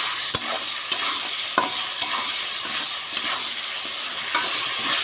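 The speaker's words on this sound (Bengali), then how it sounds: "এই যে লঙ্কা, জিরা, পেঁয়াজ আর আদা এখানে ঢেলে দেব।" Spice paste of chili, cumin, onion and ginger frying in a pan: a steady close sizzle punctuated by regular stirring scrapes roughly once a second.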